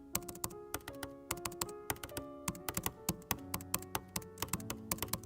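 Keys clacking steadily on an Apple MacBook Air 15 keyboard, with a deeper, thumpy key travel; close, quiet and alone, in quick irregular bursts of taps.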